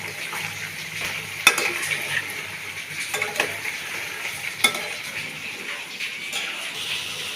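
Potatoes fry in a pan with a steady, moderate sizzle and hiss, broken by a few sharp clinks and scrapes from stirring utensils against the pan. No one speaks.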